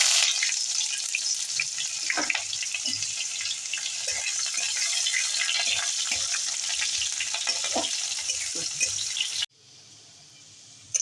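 Chopped onion and dried red chilies frying in hot oil with bay leaf and whole cumin, a loud continuous sizzle with stirring scrapes that cuts off abruptly near the end.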